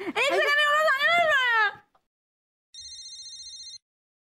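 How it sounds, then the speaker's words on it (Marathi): A mobile phone rings with a short repeating electronic ringtone, clear and close, after someone speaks. "मिनल, फोन आहे तुझा."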